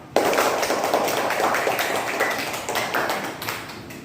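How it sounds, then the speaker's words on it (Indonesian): A school class applauding all the groups, a sudden burst of dense, crowded clapping from many children that stays loud and continuous, then thins slightly toward the end. "Tepuk tangan dulu untuk semua kelompok."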